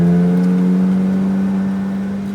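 A McLaren 570 GT4 engine drones steadily on a track under even throttle, a loud, sustained tonal whine close by that eases slightly toward the end.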